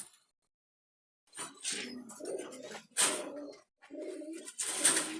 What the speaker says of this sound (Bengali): কবুতরগুলো দেখাচ্ছি দাদা